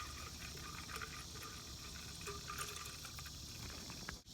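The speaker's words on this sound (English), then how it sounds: "as we fill it, we can hear the bubbling, and that's a good thing because the coolant is traveling through the system now" Coolant being poured slowly into the reservoir of a Chevy Cruze, Malibu or Impala, a soft continuous liquid gurgle and bubbling with a faint steady trickle throughout and no voice.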